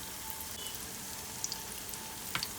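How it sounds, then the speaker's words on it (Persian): Breaded chicken donuts coated in panko fry in hot oil over medium heat, giving a steady, soft, even sizzle with a few faint pops and crackles throughout, no voices. "حالا دوناتا رو توی روغن داغ با حرارت متوسط سرخ میکنم."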